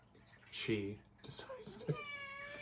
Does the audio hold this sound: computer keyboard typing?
no